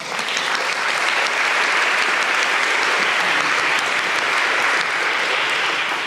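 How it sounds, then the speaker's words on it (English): A graduation recognition audience gives graduates a continuous, dense round of applause, loud and steady throughout with no pauses, a full crowd clapping together. "So I just want to give a round of applause to my fellow graduates."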